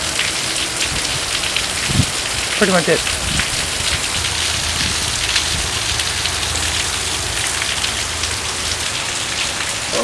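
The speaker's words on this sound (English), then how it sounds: "It was just a lot of rain," Heavy rain falls in a dense, loud, steady hiss during a storm, drumming on surfaces throughout, while a person speaks briefly early on.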